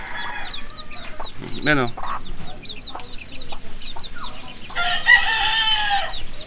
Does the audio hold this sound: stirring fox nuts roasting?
no